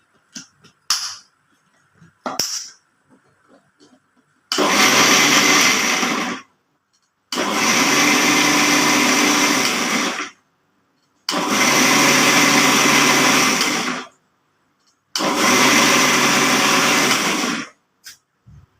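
A kitchen blender whirs loudly in four separate bursts of about two to three seconds each, with silent pauses between, while milk is mixed for a homemade cake; a few small clicks precede the first run.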